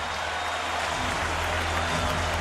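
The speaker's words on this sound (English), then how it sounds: "Well, the crowd noise" Dense, steady roar of a stadium crowd at a 2009 Steelers vs Bears NFL football game, loud and continuous throughout with a broad, washing texture and no distinct voices standing out.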